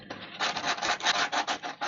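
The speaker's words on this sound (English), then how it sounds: "as I'm going on the sanding, I'm also rounding off the edges" Sandpaper rubs a stack of small wooden penguin figures, rounding off their edges in quick back-and-forth strokes, about a dozen close, scratchy bursts in a fast, steady rhythm.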